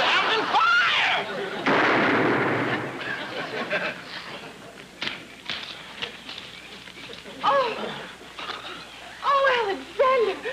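A single gunshot sound effect fires during a duel in a radio comedy scene: one loud, sharp burst with a rough decaying tail, set between stretches of lively voices and other effects.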